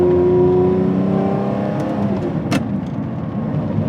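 Lamborghini Murciélago V12 engine with a manual gearbox, revving loudly then dropping in pitch through a gear change, with a sharp crack near the end and the engine note continuing steadily, close and alone.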